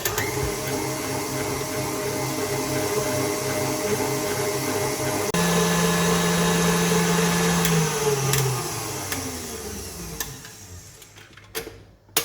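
An electric mixer whirs steadily through a mascarpone mixture for strawberry verrines, a continuous close motor drone whose pitch drops and fades as it winds down near the end.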